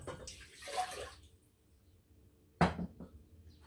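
Water splashes into a cooking pot for rice, a short close pour followed after a pause by a sharper splash and clunk of the pot.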